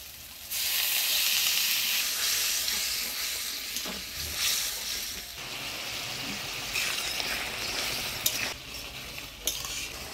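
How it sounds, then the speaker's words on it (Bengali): Spice masala for a village-style mutton curry fries in a pan, a loud steady sizzle with bursts of hissing steam and scraping, clinking stirs from a metal spoon. "এবার অল্প জল দিয়ে দিব মশলাটা কষানোর জন্য"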